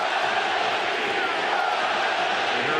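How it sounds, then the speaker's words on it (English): A dense roar of baseball fans fills the Oakland Coliseum, a continuous loud wash of crowd noise with no breaks. "We heard the crowd go silent and now getting very loud at the Coliseum"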